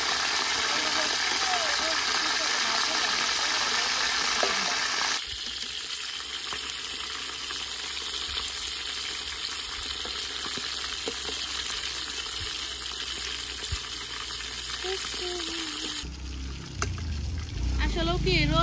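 Pieces of chicken roast fry in hot oil in a village kitchen with a constant close sizzle and some stirring, while someone talks over it throughout.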